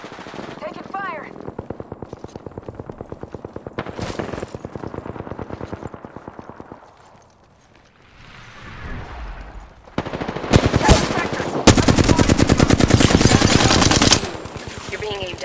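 Sustained automatic gunfire in Apex Legends, long rapid bursts with a quieter gap midway, then a heavy close-range volley, with in-game voice callouts heard over the shooting.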